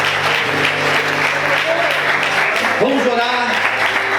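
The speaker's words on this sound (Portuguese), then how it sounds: "Será que você pode aplaudir e exaltar o nome de Deus?" A church congregation applauds in a steady, full round of clapping that fills the room. A voice speaks and hums over it, and the applause stays loud throughout.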